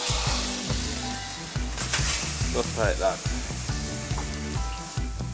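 A burger sizzling steadily in a hot frying pan, with a brief scraping stir and a person speaking briefly over it.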